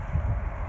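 Steady low buffeting rumble of wind striking a microphone, loud and continuous for under a second with no other sounds.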